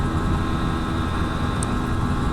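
A motorbike's engine runs fast in fourth gear at around 112, a loud steady drone mixed with heavy wind rush, with no talking.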